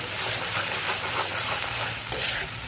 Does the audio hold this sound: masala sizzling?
yes